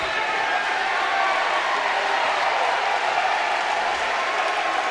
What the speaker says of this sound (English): this big Ohio State crowd showing their appreciation for what Carmen's crew is doing